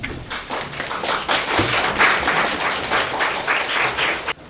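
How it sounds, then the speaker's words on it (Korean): At a Korean Buddhist studies society winter workshop, an audience applauds a speaker coming forward. Dense, loud clapping from a room full of people holds steady, then cuts off abruptly at the end. "큰 박수 부탁드립니다."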